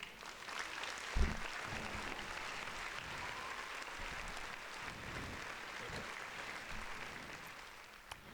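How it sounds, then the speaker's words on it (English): Steady applause from a small audience at a comedy podcast taping, running evenly throughout with a brief louder clap burst near the start and no talking over it. "Round of applause."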